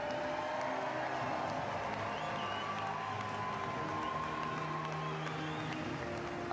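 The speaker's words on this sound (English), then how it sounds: "merci encore d'applaudir Ben Cumberland." Steady, dense applause from a large audience at a STIHL chainsaw world championship medal ceremony fills the space, with a continuous crowd murmur underneath and no clear gaps throughout.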